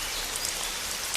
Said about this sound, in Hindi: देखते ही देखते बहुत तेज से बारिश शुरू हो गई।